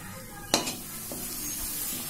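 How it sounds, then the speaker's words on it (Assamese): Papad frying in oil for an aloo papad curry, with a sharp hiss as it hits the pan, then a steady close sizzle and faint stirring clinks. "এতিয়া এইখিনি তেলতে মই ভাজি লম পাপৰ"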